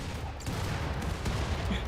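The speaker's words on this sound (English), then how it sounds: "Oh, so many rockets." Rapid bursts of rocket fire and explosions from a RimWorld battle, a continuous loud barrage of overlapping blasts and rumbles with no clear gaps.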